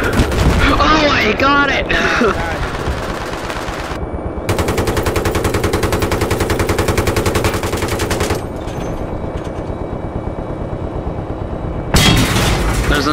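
Tank weapons firing in the Battlefield 3 video game, sustained rapid machine-gun bursts and heavy booms, loud and continuous with brief gaps, while a player talks excitedly over the combat.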